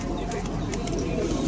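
A pair of Koka pigeons coos in a home loft, with soft low rolling calls continuing steadily under close, dense background noise.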